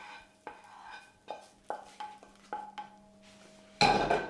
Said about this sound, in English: Give it a little stir, and then we're going to whack the lid on